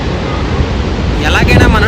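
Water from the open Srisailam Dam gates rushes with a broad, continuous roar, heard from a distance under wind buffeting the microphone, while a person talks over it toward the end.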